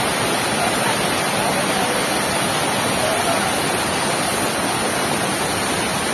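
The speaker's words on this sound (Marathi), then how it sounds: "मस्त वॉटरफॉल हा छोटासा आहे" Small waterfall in rainy Konkan, a steady broadband rush of falling water that stays loud and unchanging throughout, close by with no breaks.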